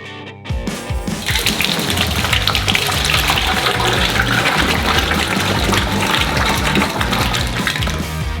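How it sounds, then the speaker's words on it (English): Ready caramel from a giant batch made with hot milk pours from one saucepan into another in a steady, loud, gushing stream that lasts several seconds, with no voices. "At this point, the caramel's ready. Pour half of it into another saucepan."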